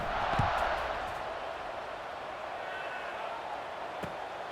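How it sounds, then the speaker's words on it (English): A stadium crowd in College Football 26 at a Georgia Tech vs Wake Forest game, a steady broad roaring buzz that holds throughout, with a couple of sharp thuds and a commentator talking. "this crowd is buzzing after that last score"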